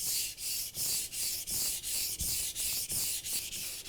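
A knife is sharpened on a whetstone with a guide rail, giving a steady rhythmic scraping. There are about nine even strokes back and forth, close up and loud, with no voices.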